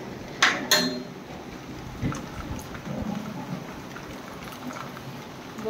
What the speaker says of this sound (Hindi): इस समय बहुत बारिश हो रही है